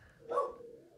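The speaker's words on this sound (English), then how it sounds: "Sorry, that's my dog." A dog lets out a single short bark indoors, quiet and brief against a faint background.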